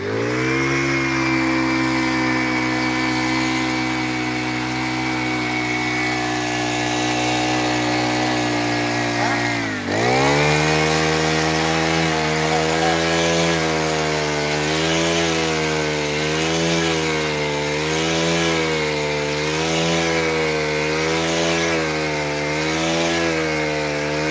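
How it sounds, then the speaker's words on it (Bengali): An earth-boring machine drills holes for planting bamboo poles outdoors at a large religious gathering, producing a loud, steady engine drone with a wavering pitch that briefly dips and then resumes. "দেখতে পাচ্ছেন মেশিনের দ্বারাই গাড্ডা পুঁতছে বাঁশ পুঁতবে ঠিক আছে মেশিনের দ্বারাই বাঁশ পুঁতছে"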